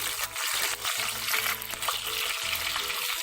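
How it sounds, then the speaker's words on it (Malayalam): Curry leaves sizzle and crackle in hot coconut oil in a pan for a Kerala fish pickle curry, a steady close frying hiss with small pops and occasional stirring, no voices. "വെളിച്ചെണ്ണ ചൂടായി വരുമ്പോൾ ഞാൻ ഇതിലേക്ക് കുറച്ച് കറിവേപ്പില ഇട്ട് കൊടുക്കുന്നുണ്ട്."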